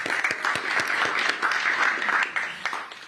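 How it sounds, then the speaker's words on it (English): An audience at a New York City announcement on 2-K seats applauds a participating family, a moderately close crowd clapping with irregular sharp claps and a fluctuating roar from many hands. "Can we please give Sandra and Stella a round of applause as they take on this exciting new chapter?"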